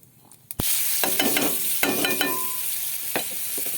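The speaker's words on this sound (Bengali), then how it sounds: "লাল লাল করে ভেজে নেব" Chopped onion dropped into hot oil for a banana masala, a sudden loud hiss that settles into a steady close sizzle with stirring scrapes running through it, no talk.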